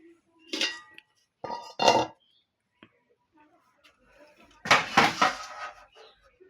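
Plates and cutlery clink in short, separate bursts while a home meal of rice and fried dishes is served, with quiet pauses between the clatters and a little talking.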